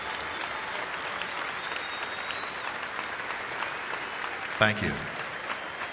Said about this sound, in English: Let's have a warm round of applause for Sergeant Little and all the brave men and women all over the world for their sacrifices for our country.